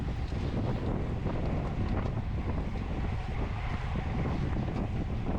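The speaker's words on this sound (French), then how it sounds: "le vent faisait vraiment un gros taf" Strong wind buffeting a microphone during a bike race near open fields, a constant loud low roar and rumble with no pauses and no voices.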